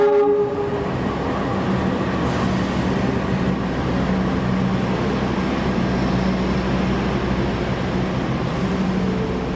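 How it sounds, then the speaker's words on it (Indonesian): A train rolls into a station platform in Indonesia with a loud, continuous rumble, wheels clacking on the rails and a sustained horn-like tone near the start, close and dominant. "Yang masuk di jalur 1 adalah kereta api Harina dari Bandung tujuan Surabaya Pasar Turi."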